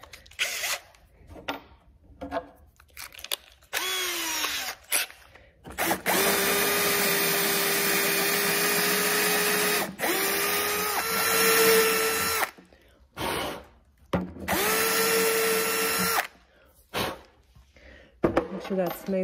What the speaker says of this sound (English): I'm gonna pre-drill this